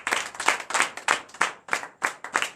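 A church congregation at a night deliverance service in Benin claps in bursts of acclamation, with sharp, rhythmic clapping in repeated pulses, loud and close, with no voices heard.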